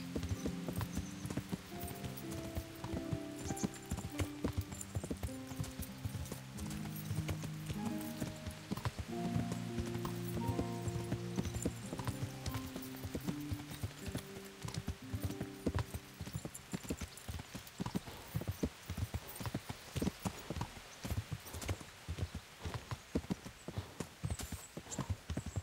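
Horse hooves clip-clop in a steady, rhythmic gait in Kingdom Come: Deliverance, fairly faint and continuous, with game music notes sounding early on.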